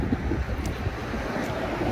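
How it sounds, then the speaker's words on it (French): Outdoors in Paris, wind buffets the microphone in low, uneven gusts, a brief constant roar with soft thumps and no speech. "j'espère que vous m'entendez parce qu'il y a un petit peu de vent"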